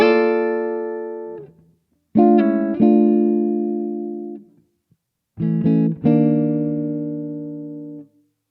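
Electric guitar plays oblique approach chords in three clean bursts, each a quick chord stab followed by a long sustained chord that rings out and decays, with short silences between them.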